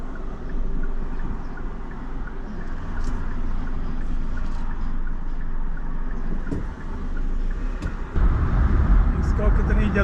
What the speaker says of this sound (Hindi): ट्रैफिक ही बड़ा आ गया लेफ्ट से